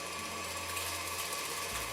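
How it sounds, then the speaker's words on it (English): A small electric mixer motor whirs continuously at a steady high pitch, close by, mixing Regina cookie dough with water and eggs, its tone shifting slightly near the end. "Going to mix the speed up a little bit more."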